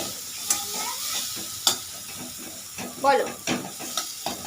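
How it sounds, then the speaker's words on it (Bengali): Spice paste stir-fried in a pan before fish is added: a low hiss and sizzle broken by spatula scrapes and spitting bursts, with a brief word spoken over it. "মশলাটা আগে ভালো করে একটু কষিয়ে নিই"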